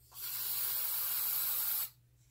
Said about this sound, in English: just spray into the cup